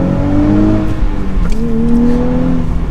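A 2023 Nissan Z sports car engine revs up steadily as it accelerates, pitch climbing, heard from inside or close by, loud and continuous.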